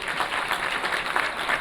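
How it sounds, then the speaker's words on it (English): An awards night audience applauds at an International Women's Day women authors' ceremony, a dense, even patter of many hands clapping continuously, fairly close and filling the short moment without talk. "let's have a round of applause to celebrate this wonderful occasion"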